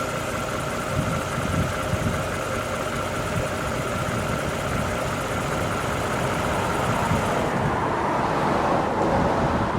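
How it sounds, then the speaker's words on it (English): A car engine idles steadily with a low rumble and vibration, then is switched off near the end and the running drone drops away, leaving quieter background. "Let's shut the engine."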